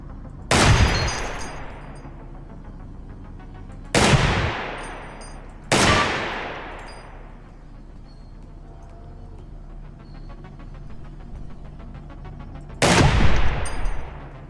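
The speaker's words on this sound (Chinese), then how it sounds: "它只能够召唤机枪塔来射击我们的脸而已" A machine gun turret firing at the player in the Receiver 2 video game: four loud, separate blasts at uneven intervals, each ringing out in a long echoing tail.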